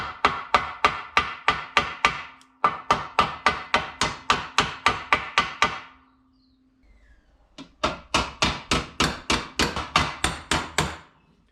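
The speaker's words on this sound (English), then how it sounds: "Might need a bit of hammering and dollying, I think." Steady, rhythmic metal hammering and dollying of a small-block Chevy 350 engine cover, sharp ringing blows in quick succession, pausing briefly midway before resuming at the same pace.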